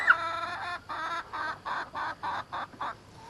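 Backyard chickens in an extended run cluck close by in a string of short, evenly spaced bursts, about eight in a row, with no talk.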